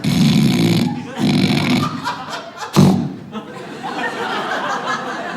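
A comedian's exaggerated vocal imitation of a loud snore on stage, coming in rough, breathy bursts with a sharp snort near the middle, over audience murmur.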